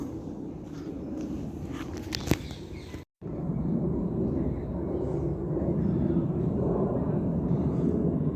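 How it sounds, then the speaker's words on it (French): Aircraft fly over near the Orly air corridor, a steady, broad, distant roar that persists throughout, with faint outdoor background sounds and a brief dropout partway through. "là on entend les avions parce qu'on n'est pas loin du couloir aérien d'Orly"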